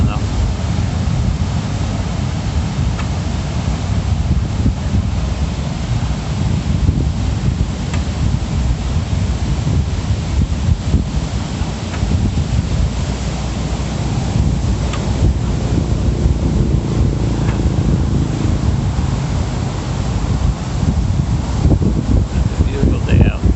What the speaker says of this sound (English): I don't know if it's windy. Too windy.